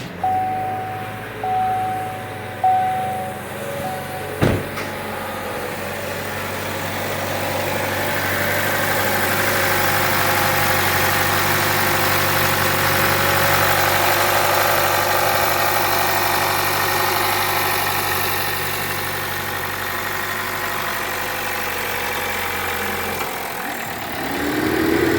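A 2018 Chevy Trax engine idles after a valve cover replacement, starting with a few clicks and a starter crank, then settling into a steady, even hum that runs for over twenty seconds before cutting off.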